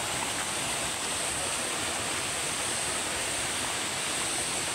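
A creek flows steadily beside the bank in a continuous, loud rush of broadband water noise with no breaks and no voices.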